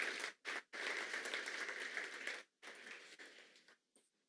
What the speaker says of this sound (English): Give Shani a round of applause who's on Zoom.